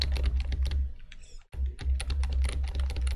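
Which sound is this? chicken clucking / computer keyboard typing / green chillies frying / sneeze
computer keyboard typing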